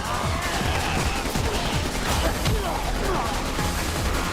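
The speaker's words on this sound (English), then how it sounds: "Why are they shooting at me?" Rapid gunfire from enemies shooting at the player in Resident Evil 6, with dense bursts of shots and impacts filling the whole stretch at a steady, loud level.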